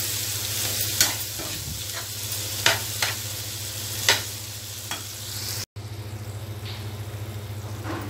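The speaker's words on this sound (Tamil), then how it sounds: "நல்லா சிம்மில் வச்சு நல்லா கிண்டுங்க." Wild lemon pickle being stirred in oil over low heat: a low steady sizzle under occasional scraping stir strokes, a few distinct clicks spaced a second or so apart, no speech.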